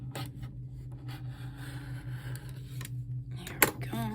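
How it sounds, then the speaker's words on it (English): Scissors cut fabric for a simple craft vessel or purse, making quiet, close scraping snips over a steady low hum, with one sharper click near the end. "So I think I'm going to cut it right there."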